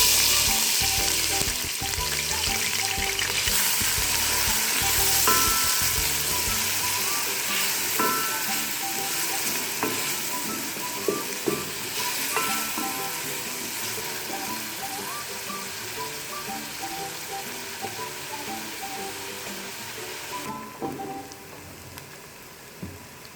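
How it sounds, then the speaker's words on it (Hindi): Chopped onions fry in hot ghee in a copper pan, giving a loud, continuous crackling sizzle that fades slowly, broken now and then by sharp clinks and stirring scrapes. "अब तांबे में घी गर्म करें और 3 अदद चॉप किए हुए प्याज डालें"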